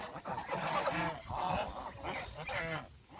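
A king duck goose honks and calls in several loud, nasal, harmonic bursts with short gaps between them, nearby and outdoors.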